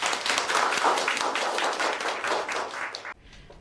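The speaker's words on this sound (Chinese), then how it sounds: "大家给她鼓鼓掌。" A room of office colleagues applauds a coworker, giving a dense, lively burst of clapping for about three seconds before it stops abruptly, leaving faint scattered claps.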